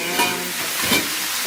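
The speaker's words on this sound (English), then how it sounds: "Frying chicken." Chicken thighs frying in a pan over a makeshift setup, a steady sizzle broken by two brief stirring scrapes.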